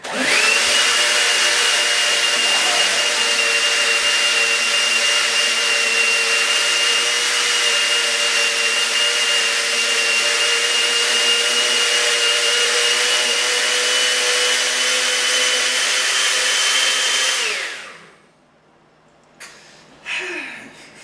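A milkshake whirs in a blender whose motor is being overworked: a loud, steady, high whine runs for about 17 seconds, then cuts off, followed by a few light knocks.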